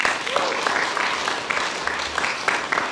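An audience claps at the awards ceremony of a stage-speech contest, a dense, steady patter of many hands filling the room, with voices faintly mixed in.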